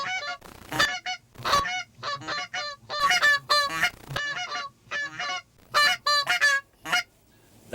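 Two people blow goose calls together, a busy overlapping stream of honks and clucks mimicking a flock of geese, loud and close with brief pauses.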